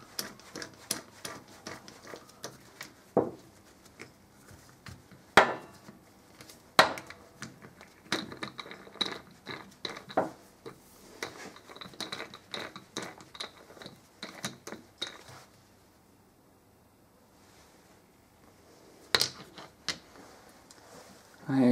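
Metal jaws are pulled from a worn lathe chuck using a homemade chuck key, giving a series of sharp clanks and taps at irregular intervals, close and fairly loud, with a quiet pause before a few final knocks.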